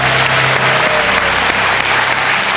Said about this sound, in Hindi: जोरदार तालियां बज जाए देवी संगम।